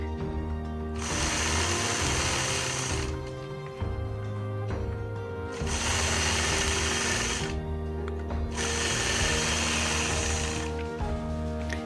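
A sewing machine stitches point-to-point curved quilting lines guided by a Mini 4-in-1 ruler, running in three long steady bursts separated by brief pauses, close and alone.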